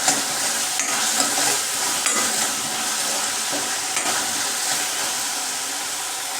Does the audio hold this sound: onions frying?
yes